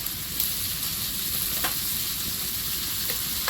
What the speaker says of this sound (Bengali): এ পাশে তেল দিয়ে ঢেঁড়সটা ভেজে নেবো